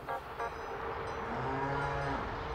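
Cattle moo nearby in a drawn-out low call, joined by another lowing animal, heard on their own with no talk.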